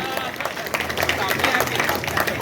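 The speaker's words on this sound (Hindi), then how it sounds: "जोरदार ताली बजाएं भाई रंजीत" Audience at a Hindi comedy poetry event breaking into applause, a dense patter of clapping that builds and stays steady through the clip, with crowd murmur underneath.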